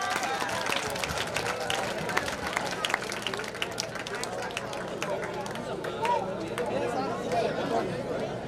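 Scattered clapping from a school crowd at a ZPHS R.S Pendekal alumni meet, welcoming back a returning teacher, Hussain sir. It is steady and moderately loud throughout, mixed with crowd chatter and voices.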